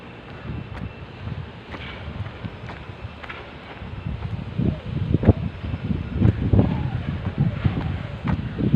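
Cool wind blowing outdoors near a mosque, a steady gusting rush buffeting the microphone with occasional rustles, faint talk beneath.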